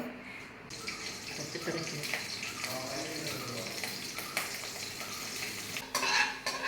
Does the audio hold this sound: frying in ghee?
yes